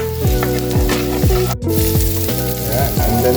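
Garlic sizzling in a pan as the base for a Filipino mung bean stew, a loud, close, continuous frying hiss over a steady tonal background, with a momentary dip midway.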